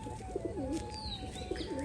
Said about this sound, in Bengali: গোপাল ভাই এনে কিন্তু সর্ষেটা দিয়ে দেবে আর পায়রাগুলো কিন্তু সর্ষেটা খুব সুন্দরভাবে খাবে আর খুব ভালোভাবে খাবে